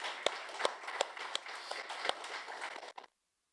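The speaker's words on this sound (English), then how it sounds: "So round of applause for all these people that have helped us in the last year." Audience applause at a SecDSM security meetup: a room of people clapping steadily with scattered sharper claps for about three seconds before cutting off abruptly.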